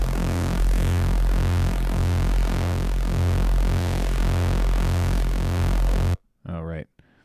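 An unprocessed synthesizer preset in Phase Plant plays a dense, sustained tone with a steady pulsing rhythm, loud and close, cutting off near the end before a brief burst of sound.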